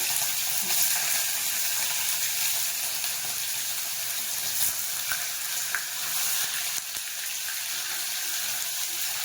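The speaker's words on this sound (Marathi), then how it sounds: "आता हे पनीर थोडंसं तेलात फ्राय करून घेणार आहे" Cubes of paneer fry in hot oil with a continuous, even crackling sizzle that runs throughout, broken by a couple of soft stirring scrapes and clicks; no voices are heard.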